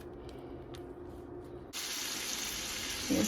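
Bacon sizzling in a frying pan, heard first as a quiet kitchen background before a loud, steady hiss and spatter starts suddenly and continues to the end.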